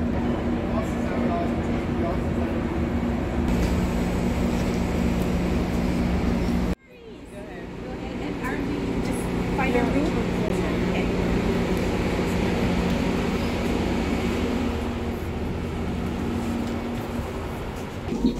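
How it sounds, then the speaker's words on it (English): Amtrak Coast Starlight train backing up toward a station platform, a steady low rumble and mechanical hum with a sudden cut and a quieter resumption, continuous and moderately near throughout. "Here's our train backing up to meet us so we can get on board."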